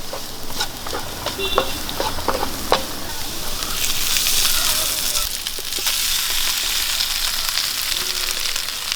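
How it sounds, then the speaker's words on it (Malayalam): Beef pieces for a Kerala-style coconut beef fry hitting the hot pan, a loud bright sizzle with scattered crackles and stirring clatter up close, steady throughout. "നമുക്ക് ഇതിലേക്ക് ബീഫ് ഇട്ട് കൊടുക്കാം"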